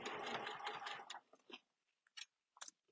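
A sewing machine stitches a short back tack over an existing seam while closing quilt binding, with a dense, continuous run of needle clatter for about a second, then a few separate brief mechanical clicks and ticks up close.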